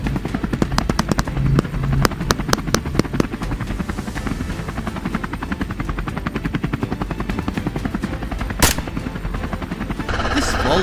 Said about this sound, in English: the distant roar of the helicopter